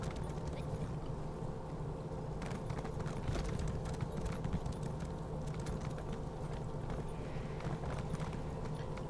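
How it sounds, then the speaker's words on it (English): Horse hooves clip-clop in steady rhythm while riding through a camp in Elder Scrolls Online, a continuous trotting patter over a dense ambient game soundscape. "Maybe I should get off my horse."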